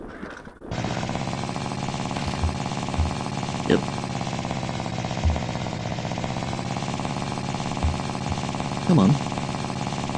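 Moped engine in the game The Long Drive starts up abruptly and settles into a steady, buzzing run with a rough periodic throb, continuing under a few brief spoken words.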